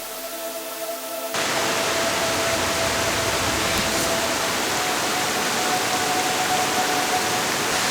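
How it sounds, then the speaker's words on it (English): Lumsdale Falls, a multi-tiered waterfall in the Peak District, roars in a loud, steady broadband rush that cuts in abruptly after a quiet opening second and continues unbroken, close by and with no talk. "you'll soon be face to face with the first tier of this incredible waterfall."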